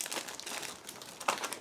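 Sealed plastic bags holding parts of an Aoshima 1/24 Toyota 86 pre-painted model kit being opened, giving close, continuous crinkling with a sharper crackle near the end.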